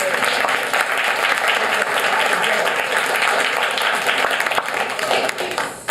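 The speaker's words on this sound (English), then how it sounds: "I'd like to give you all a round of applause" A room full of people at a travel panel event gives a sustained round of applause, dense steady clapping that fades slightly toward the end.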